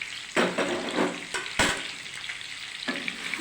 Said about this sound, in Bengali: 3 মিনিট ধরে একটু ভেজে নেব আমরা